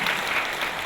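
A church congregation gives a short burst of steady applause during a worship service, filling the whole moment with dense clapping.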